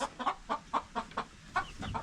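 Hens clucking indoors, kept inside their house to protect them from a disease in the village, a close run of short rhythmic clucks about four per second, fairly loud and steady.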